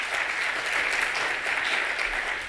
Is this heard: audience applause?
yes